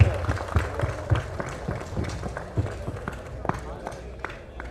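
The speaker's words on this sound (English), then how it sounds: "let's give a big round of applause to everybody" At a startup networking event, an audience gives a round of applause, scattered claps and hand slaps fading gradually over several seconds amid background murmur and talk.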